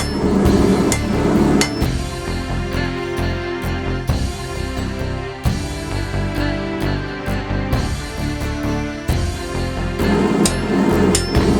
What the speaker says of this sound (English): Go to this far side of the anvil, and we're just going to start forging a set down.